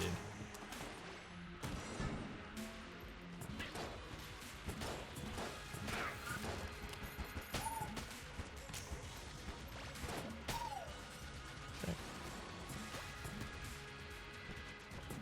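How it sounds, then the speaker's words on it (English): Rapid shots from the Pox Cannon in the video game Enter the Gungeon, a dense, busy string of sharp bursts and crashes layered with other game effects throughout. "we're still single-shotting a lot of things with this Pox Cannon"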